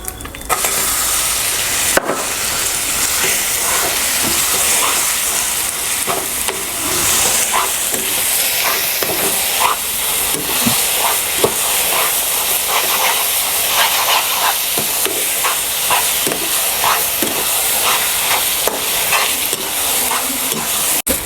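Gongura chutney hits hot tempering oil with urad dal, chana dal and curry leaves, setting off a loud, continuous sizzle with steady hissing and occasional stirring scrapes, no voices.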